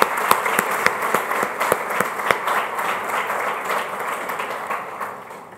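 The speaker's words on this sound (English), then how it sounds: "So big hand round of applause for them." Steady applause from an audience at the inauguration of a silicon lab: a sustained wash of many hands with a few sharp, close claps standing out, gradually easing off.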